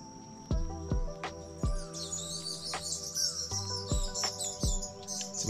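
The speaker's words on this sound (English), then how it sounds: "Some bird drama going on over there." Birds calling and chirping in a swamp backwater heard from a kayak, high trilling song running continuously over repeated low knocking thumps at a steady pace.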